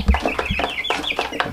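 Chickens with a respiratory cold (snoring) cluck repeatedly in short, close bursts, with overlapping calls at a steady busy rhythm.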